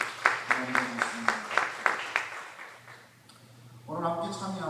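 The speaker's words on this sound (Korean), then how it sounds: "두 분을 위해서 우리 박수 한번 쳐주시겠습니다." Congregation applause at a Korean Liberation Day prayer meeting: a short run of steady, regular claps that fades out, followed by someone speaking.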